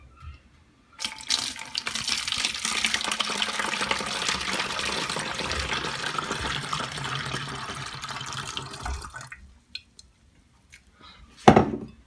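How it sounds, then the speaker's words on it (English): Warm water pours steadily into a plastic bottle for about eight seconds, a close, continuous splashing fill that stops abruptly, followed by a few faint handling knocks and a short clatter at the end. "So this is the warm water. I'm going to fill the bottle halfway now."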